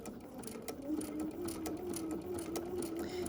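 A treadle sewing machine stitches a quilt with a steady, continuous mechanical whir and rhythmic clatter, loud and close, running throughout without a break.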